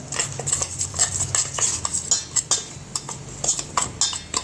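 A spoon stirs pickle masala with hing in a bowl, making rapid scraping clinks against the sides in an uneven rhythm, close and fairly loud, no voices.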